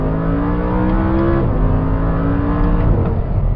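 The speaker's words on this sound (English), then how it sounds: "it just kind of operates like a normal dual clutch would. pretty smooth. Downshifts." Engine of a 2014 Audi R8 V10 with dual clutch transmission, loud and close inside the car, its steady drone stepping in pitch as it downshifts smoothly twice.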